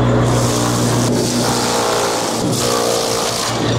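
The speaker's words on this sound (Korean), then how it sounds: "이제 풀들이 좀 길쭉길쭉해서 요거를 썰어주는 역할을 하는 친구입니다. 좀 소리가 클 거예요." A grass shredder machine chops long grass and rye for animal feed at a small rural zoo, giving a loud, steady motor roar that stays dense and unbroken throughout with no voices.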